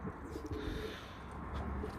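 Taklacı tumbler pigeon cooing low and steady through a dense, noisy background, the murmuring coos running continuously and fairly faint, with no talk.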